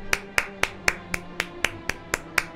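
A single person claps hands in a steady rhythm, about ten sharp, close claps spaced evenly in under three seconds, with no talking.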